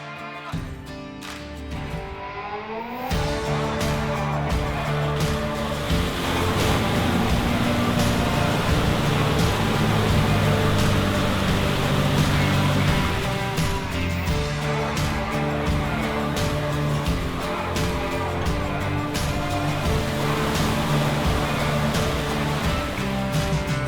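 An off-road vehicle ploughs through deep water on a forest trail in Ocala National Forest, a loud, steady churning wash of engine and splashing that holds for about twenty seconds after a brief quieter start.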